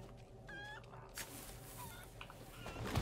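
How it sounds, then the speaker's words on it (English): Chickens clucking in the Resident Evil 4 Remake video game: several short, quiet clucks scattered over a low ambient background, with no talking. "Chicken."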